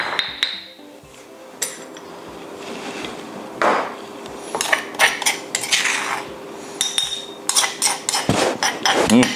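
Spices for Thai red curry paste are pounded in a mortar, making irregular woody thuds and clinks. The blows come sparsely at first, then quicken into a denser run of close knocks toward the end.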